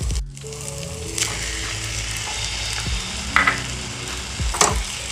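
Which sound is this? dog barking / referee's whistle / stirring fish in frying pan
stirring fish in frying pan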